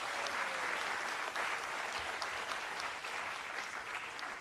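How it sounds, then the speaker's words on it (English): An audience at a college convocation applauds the program's student anchors, a continuous, fairly soft mass of clapping that holds level from start to finish. "Please give them a big round of applause."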